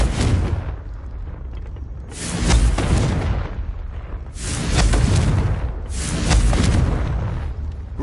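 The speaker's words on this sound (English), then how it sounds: "Confringo." Repeated Confringo fire spell explosions in Hogwarts Legacy, three or four loud rumbling booms rising and fading in rhythm over a continuous low roar.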